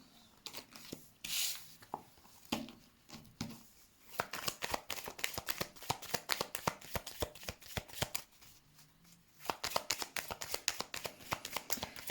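Tarot cards being shuffled by hand for a reading, close and fairly quiet, with repeated bursts of riffling and sliding card rasps separated by short pauses.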